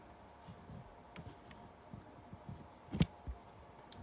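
Small scissors snipping embroidery thread loops, a few faint light clicks with one sharper snip near the end, close but quiet against a soft background hiss.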